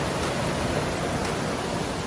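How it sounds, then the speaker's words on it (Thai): A stream of water flowing past at a guesthouse near Ranong, a steady loud broadband rush with no pauses and no voices over it. "มันเป็นแบบน้ำนะคะไหลผ่านเราเลยเป็นลำธาร"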